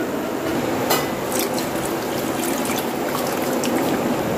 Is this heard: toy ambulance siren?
no